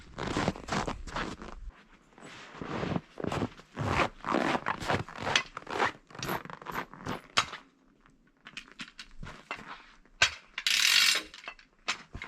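A hi-lift farm jack rated for three tonnes, used outdoors in winter on a T-16MG self-propelled tractor chassis, gives repeated loud metallic ratcheting clicks in bursts, close by, with no voices.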